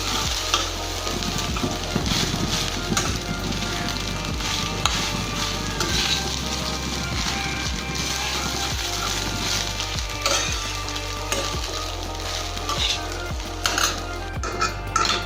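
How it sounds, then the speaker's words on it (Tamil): Cooked rice stirred into a coconut mixture in a pan: a dense run of spoon scrapes and metallic clinks against the pan over a continuous loud sizzle, nearby and steady throughout, with no voices. "நம்ம ரைஸை இப்போ கிளறி விட்டோம்னா நம்மளோட தேங்காய் சாதம் ரெடி"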